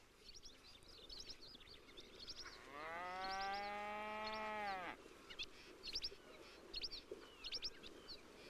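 A cow lets out one long, drawn-out moo lasting about two seconds, close and clear, while birds chirp repeatedly in the background before and after it.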